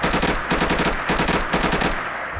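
Fully automatic fire from a VSV rifle in Fallout 4: rapid, close, loud bursts of gunfire in three quick strings separated by short pauses, with no talking.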